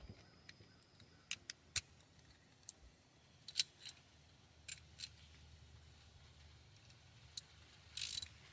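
Faint, sparse ratchet clicks while fuel injector bolts are tightened on a Toyota engine, a handful of short sharp ticks spread irregularly, with a brief louder rattle near the end in a quiet workshop.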